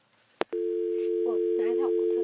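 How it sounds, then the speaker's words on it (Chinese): After a handset click, a steady telephone dial tone hums continuously in a radio studio while people talk over it. "来，你现在你来拨这个电话。"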